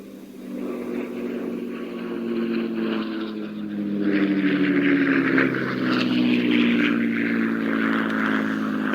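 A North American P-51D Mustang's Merlin propeller engine drones and rises in pitch as the plane passes at an airshow, growing louder toward the middle and staying strong to the end.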